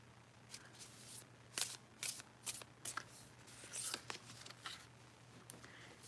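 Oracle cards get shuffled up close in quick, crisp riffles and flicks, a cluster of papery bursts with short pauses between them, soft in level.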